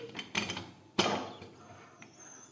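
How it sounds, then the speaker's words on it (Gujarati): A few light metallic knocks, then a sharp, close clunk as a pressure cooker lid is pushed shut over urad dal, followed by faint rattling. "હવે આપણે કુકરનું ઢાંકણ છે તે બંધ કરી દઈશું"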